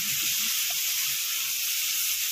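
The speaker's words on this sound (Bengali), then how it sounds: "টমেটো আর পেঁয়াজ 2-3 মিনিট কষিয়ে নিয়েছি।" Chopped tomato and onion sautéing in a pan with turmeric and salt, a continuous loud, bright hiss of frying that stays even throughout, with no voices.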